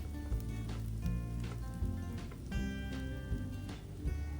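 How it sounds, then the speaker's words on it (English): Chili flakes are stirred into onions and garlic frying in a pan, giving a steady close sizzle with light rhythmic stirring scrapes throughout and no talk. "Stir them for a few seconds along with the onions and garlic."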